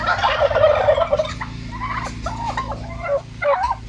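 Turkeys being raised for slaughter on an organic farm gobble repeatedly in several short bursts, close and fairly loud, with other birds audible in the background and no speech.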